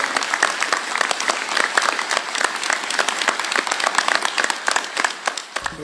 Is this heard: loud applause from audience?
yes